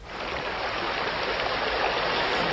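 Swollen rivers in flood in Sitamarhi, Bihar, swelled by heavy rain in Nepal, give off a loud, unbroken broadband roar of rushing water that holds steady throughout.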